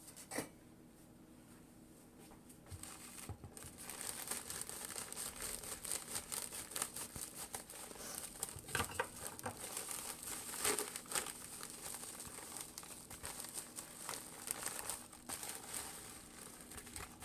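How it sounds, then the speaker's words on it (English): Steady crinkling and rustling of packaging being handled and torn open, close by and continuous, with occasional sharper crackles and no talking. "So let's open the packages."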